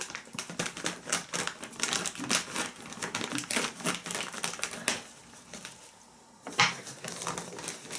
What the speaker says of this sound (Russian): сейчас я разрежу этот пакетик